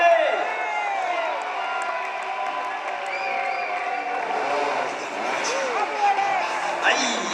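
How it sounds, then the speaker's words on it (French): A crowd at an indoor trial motorbike event in an arena in Metz cheers and claps steadily throughout, with a voice talking loudly over the noise and a few louder shouts near the end. "Sous vos applaudissements. Et faites du bruit."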